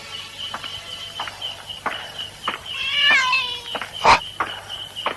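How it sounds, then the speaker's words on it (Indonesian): A cat meows as a sound effect in an Indonesian mystery radio drama, set against a steady night backdrop of chirping crickets, with soft footsteps around it and one louder, sharper cry near the end. "Kenapa ada kucing di sini?"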